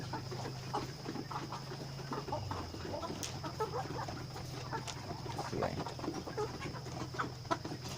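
Eighteen-week-old Hy-Line Brown laying hens cluck and murmur softly at midday in hot weather, in a steady, scattered chorus, with occasional sharper calls over a low constant hum.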